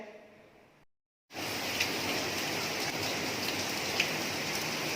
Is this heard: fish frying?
no